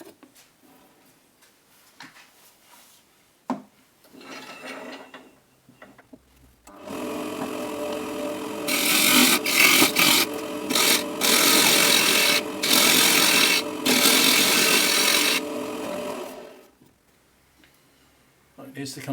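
A pine bucket piece held in a lathe chuck is turned, and the tool scrapes and rasps loudly in repeated pulsing passes for about ten seconds. Speech comes before and after the cutting.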